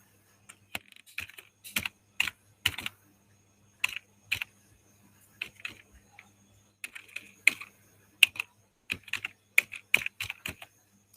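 Light typing on a computer keyboard while entering text into an MS Excel spreadsheet, with quiet, irregular clusters of clicky keystrokes separated by short pauses and no talking.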